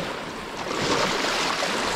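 Waves wash steadily where Lake Superior meets the mouth of the Two Hearted River in Michigan's Upper Peninsula, a continuous broad surf roar with some wind, with no voices.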